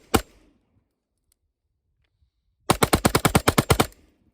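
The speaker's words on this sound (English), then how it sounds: "So now we're going to look at how the recoil control works with the oppressor on it." A rifle fitted with a Strike Industries Oppressor muzzle device fires one sharp shot, then after a pause about a dozen rapid, evenly spaced shots ring out, loud and close with no talk.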